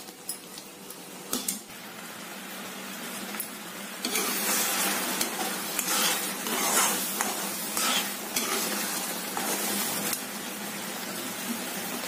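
Jackfruit halwa being stirred in a pan as it begins to boil, with repeated scraping and clinking of a utensil against the metal and a soft sizzle, steady and close, growing busier partway through, with no talking.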